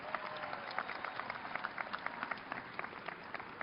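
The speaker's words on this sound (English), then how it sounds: "let's give another round of applause to the Senior Gift Committee and all the members of the" Crowd at a UC Berkeley commencement clapping for the class of 2016, a steady patter of applause heard faintly and at a distance, with no talk over it.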